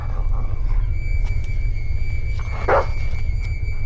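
A single short dog bark in the video game GTA V cuts through a steady low hum and faint background noise, with no one speaking.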